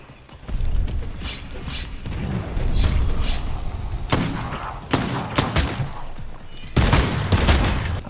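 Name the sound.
revolver gunfire in video game Bloodhunt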